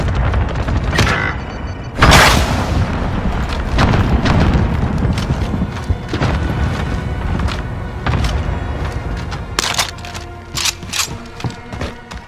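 Rocket launches and explosions in the Warzone video game on Rebirth Island boom loudly and up close. Heavy blasts repeat, with sharp gunfire-like cracks coming thicker toward the end.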